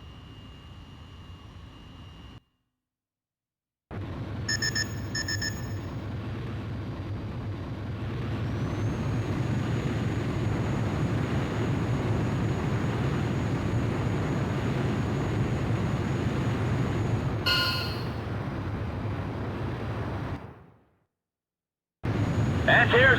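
Fighter jet taking off in Ace Combat Joint Forces on PSP: a steady, loud engine roar builds and holds for most of the stretch, framed by brief silent gaps, with a sharp burst near the end.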